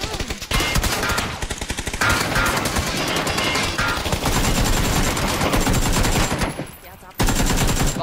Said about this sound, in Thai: อันนี้เราต้องใช้ปืนกลใช่ป่ะ